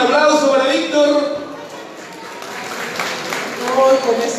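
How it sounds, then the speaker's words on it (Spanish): Scattered outdoor applause at a shrimp festival in Santa Juana, Chile, mixed with nearby talking voices, rising and fading over a few seconds. "un aplauso para Víctor"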